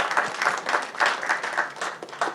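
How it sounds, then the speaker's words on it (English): Audience applause at a Cannes event: a room of people clapping steadily at moderate loudness, with the claps blending into an even, continuous patter. "So a big round of applause for them here."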